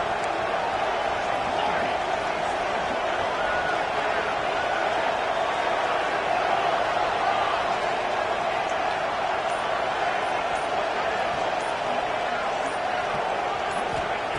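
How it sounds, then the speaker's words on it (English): Stadium crowd in a college football video game during a red-zone defensive stand, a steady loud roar of cheering that holds without letup throughout, with faint commentary mixed in. "And here comes the noise. This crowd is trying to inspire this defense to make a big red zone stop."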